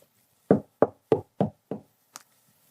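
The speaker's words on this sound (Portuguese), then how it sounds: "Eis que estou à porta e bato." Five firm knocks on a door in a steady, evenly spaced rhythm, close and clear, followed by a short, lighter tap and then silence.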